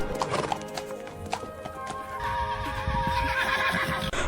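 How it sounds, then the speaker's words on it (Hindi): A horse with clip-clopping hooves and a whinny, ridden and reined, the hoofbeats steady and close with a neigh rising over them and no talk. "जैसे ही वो घोड़े पर चढ़ा और लगाम खींची"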